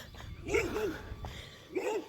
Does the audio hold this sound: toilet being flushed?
no